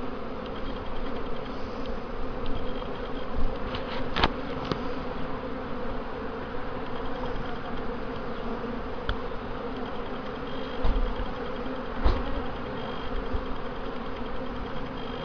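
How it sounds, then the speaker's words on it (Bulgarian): Dense, steady buzzing of a large bee swarm at an open hive, continuous and close throughout, with a few brief louder passes of single bees flying near. "Много пчели, много нещо."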